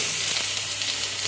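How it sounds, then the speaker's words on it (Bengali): Potatoes fry lightly in hot oil, a steady close hiss and sizzle with no talk over it. "এরপরে আমি একটু আলুগুলোকে হালকা করে ভেজে নেব।"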